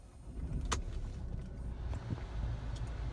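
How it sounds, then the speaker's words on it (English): A key turns in a Mercedes-Benz B180 1.5 CDI diesel, giving a sharp click, and the engine then rumbles low and steady close by, with no voices. "If we turn the key and start the car,"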